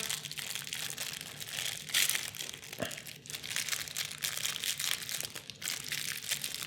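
Plastic packaging of board game components being handled, a close, continuous crinkling and rustling with a few sharper crackles and brief pauses, no voices.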